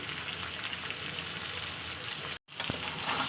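Potato pieces seasoned with salt, turmeric and chili powder fry in hot oil, making a continuous close hiss. There is a short silent gap, then the sizzle resumes.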